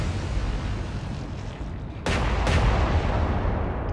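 Naval gunfire between the battleship Bismarck and battlecruiser Hood in the game Atlantic Fleet: a heavy, continuous low rumble of battle broken by two sharp, loud cannon blasts in quick succession.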